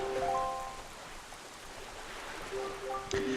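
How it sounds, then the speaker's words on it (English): Steady rain falls in the Wind Waker video game on a cursed island under dark clouds, a continuous hiss framed by faint game music notes at the start and end. "this place suffers under the dark clouds and rain"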